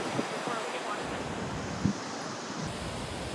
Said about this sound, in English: Nice place, fun beach.